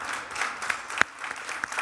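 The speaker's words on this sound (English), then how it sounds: "We could clap it up for that." Audience applause at a talk on freelance media careers: a steady, moderately loud wash of clapping with a few sharper individual claps, no voices standing out.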